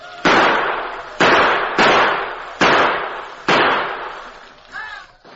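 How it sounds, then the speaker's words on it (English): Gunfire effect in an old-time Western radio drama about the Lone Ranger, with Tonto shooting through a bedroom window: five sharp, loud shots at uneven intervals, each with a decaying echo, and a brief faint sound at the end. "Tonto, who maintained a steady gunfire through a window near the bed"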